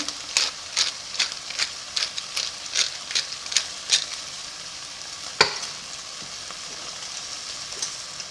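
Sausage, onions, bell pepper and mushrooms sautéing in a pan, with a steady sizzle under a series of regular, sharp stirring scrapes, one louder clatter partway through, then continued quiet frying.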